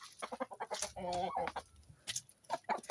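Hens cluck in a rapid, uneven run near the listener, with one drawn-out fowl call partway through on a poultry-raising farm; it sounds moderately loud and busy, and no clear speech cuts in.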